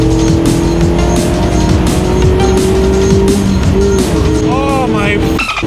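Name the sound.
Mazda MX5 2.0 naturally aspirated engine accelerating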